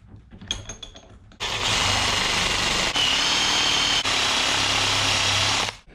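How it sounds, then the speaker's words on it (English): An electric drill with a 13 mm bit bores into a timber block, a loud steady whine starting abruptly after a brief quieter moment and running continuously for several seconds at close range. "This is a 13 mil drill bit."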